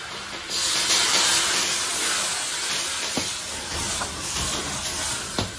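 Yellow rice wine poured onto pork bones browning in hot oil with rock sugar, scallion, ginger and spices, giving a loud, steady steaming hiss with a few sharp pops.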